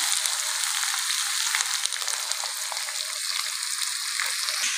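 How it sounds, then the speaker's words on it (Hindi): Keema and eggs fry on a hot tawa with a dense, steady hiss and crackle of sizzling oil, close and continuous, with faint stirring ticks and no talking. "चले जी हमारा कीमा और अंडे जो है वो तैयार हो चुके हैं, बस अब उसको हल्का हल्का फ्राई करेंगे।"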